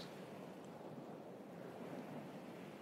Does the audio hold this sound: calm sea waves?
yes